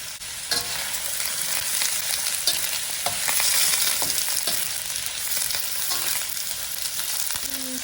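Chicken and other ingredients for sweet and sour pineapple chicken are stir fried in a pan, a loud, steady sizzle punctuated by repeated clicks and scrapes of the utensil tossing the food.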